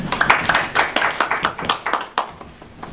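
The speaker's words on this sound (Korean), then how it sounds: "우리 박수 한번 부탁드립니다." A small group of reporters clapping at a labor-management press briefing, a few seconds of close, loud, uneven hand claps that thin out toward the end.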